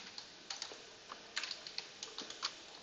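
Fingers tap on a computer keyboard while writing code, a quick irregular patter of light clicks with small pauses, close and quiet.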